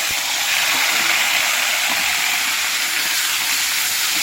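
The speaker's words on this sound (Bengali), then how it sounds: "গাইস দেখেন এবার আমি তেল ঢেলে দিচ্ছি আমার কড়ার উপরে। এবারে আমি মাছটা দিয়ে দিব।" Fish frying in hot oil in a kadai, a loud steady hiss and sizzle filling the space without pause, close up and unbroken.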